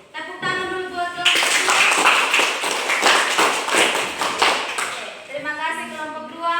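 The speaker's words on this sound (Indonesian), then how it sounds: "Oke, tepuk tangan dulu buat kelompok." Classroom clapping for a student group after a science presentation, a burst of quick, close hand claps from several people lasting about four seconds, with a teacher's voice heard before and after.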